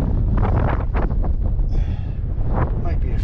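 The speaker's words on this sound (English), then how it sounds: "I'm not bothered with the wind" Strong wind buffets the microphone on an exposed Lake District fell, a loud, continuous low roar with gusty surges that stays steady throughout.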